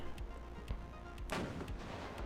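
Tank cannons fire in the WARNO battle game, a series of faint, distant booming shots spaced apart, with one sharper, louder blast midway, under no talk.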